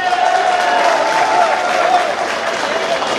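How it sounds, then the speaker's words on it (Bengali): An audience at a Mawts pitha festival event applauds the chief and special guests with a steady, dense wash of clapping that fades slightly toward the end. "আজকে প্রধান অতিথি সহ বিশেষ অতিথিগণ যারা আছেন তাদের জন্য একটু জোরে করতালি দেই"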